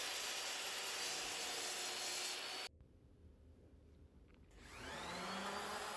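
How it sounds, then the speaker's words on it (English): A saw cuts through walnut wood with a loud, steady, broadband rasping roar. It breaks off abruptly into a quieter stretch, then the cutting noise swells back up, and no voices are heard. "I cut the walnut to the same width as the sushi tray."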